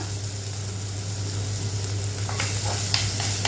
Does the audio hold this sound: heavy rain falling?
no